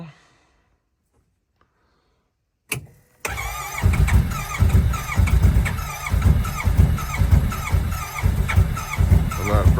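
A 2025 Honda Pioneer 700 UTV in winter cranks after near silence, catches, and settles into a loud, rough, pulsing idle that runs to the end.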